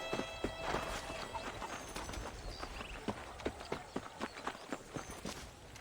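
Horse hooves clip-clop in a steady, quickening rhythm over a soft ambient backdrop in the video game Red Dead Redemption, growing sharper and more distinct toward the end.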